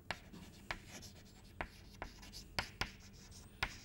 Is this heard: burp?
no